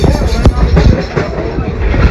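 A train car rumbles along rail track with steady heavy low rolling noise and faint clacks, loud and close from onboard, with possible voices underneath.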